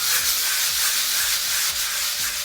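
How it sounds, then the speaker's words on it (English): A power sander grinds steadily against a wall around raw plug holes, a constant abrasive hiss with a faint rhythmic pulse, close and alone. "So first thing to do is to get your sander"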